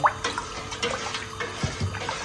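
Cold water splashes and gurgles into a pot with salt in short bursts, close by, for boiling a T-shirt, with a few drips and a hollow liquid slosh.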